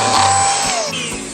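Electric hand mixer whirring steadily through vanilla cake batter in a bowl, a continuous close motor whine that dips slightly in pitch partway through, with no talking.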